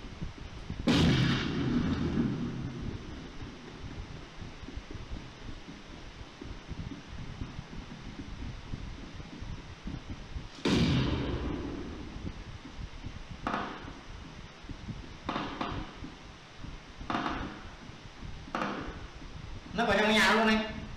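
Gunshots in PUBG Mobile: a few sharp bursts spaced several seconds apart over steady game ambience, with voices talking throughout.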